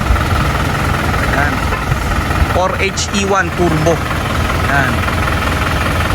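An Isuzu NPR Giga dump truck with a 4HE1 turbo diesel idles loudly and close with a steady knocking chug, while someone talks over it in the middle.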